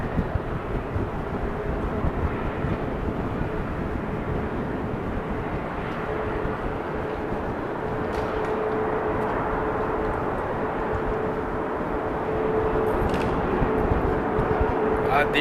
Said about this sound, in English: let's follow this Delta A330